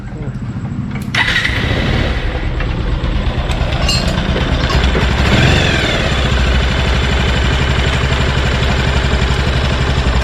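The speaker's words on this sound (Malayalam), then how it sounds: "വണ്ടി ഇപ്പം ജസ്റ്റ് ഒന്ന് സ്റ്റാർട്ടാക്കാൻ പോവുകയാണ് കേട്ടോ" A 220 motorcycle fitted with a new cylinder kit cranks and catches after about a second, then settles into a steady, loud, close idle that runs without a break to the end.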